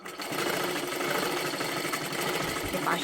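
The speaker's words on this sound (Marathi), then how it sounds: "आता इथून आपल्याला शिलाई द्यायला सुरुवात करायची आहे" A sewing machine stitches a tuck on a blouse, a loud, close, rapid mechanical chatter that runs continuously and evenly from start to finish.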